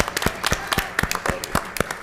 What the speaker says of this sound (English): please recognize them with applause